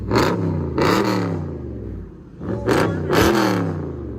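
A Chrysler 300 SRT8 with a 6.1-litre HEMI V8 revs loudly and close by in two sharp bursts, each rising to a rough snarl and then settling back to a throbbing idle.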